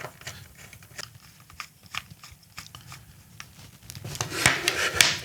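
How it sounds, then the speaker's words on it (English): Two small screws being driven back into an external SSD enclosure: close, faint scratchy rubbing and tiny clicks that grow denser and louder toward the end. "Now we put the two screws back in, and we're good to go."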